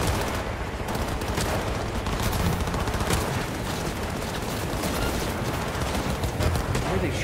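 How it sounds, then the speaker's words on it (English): Sustained gunfire in Cyberpunk 2077 on hard mode, rapid bursts and fusillades crackling densely throughout at a steady moderate level, with no voices over it. "They're already fucking shooting?"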